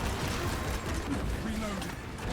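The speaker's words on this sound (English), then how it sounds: "Reloading." Weapon reloading in the video game Space Marine 2, mechanical clicks and ratcheting metal parts over a dense layer of game noise, with a voice speaking faintly underneath.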